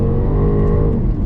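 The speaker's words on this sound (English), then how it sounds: "She really takes off when you put your foot down." A Jaguar XKR with a supercharged V8 accelerates hard, its loud, close engine note rising steadily with a strong low rumble and supercharger whine for the whole moment.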